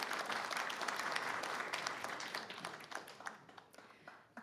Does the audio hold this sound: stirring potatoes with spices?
no